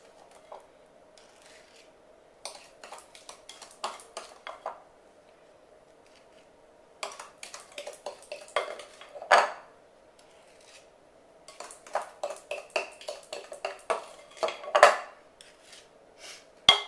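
A knife swirls through cinnamon roll cake batter in a metal pan, making clustered bursts of light scraping and clinking, close but soft, with quiet pauses between strokes.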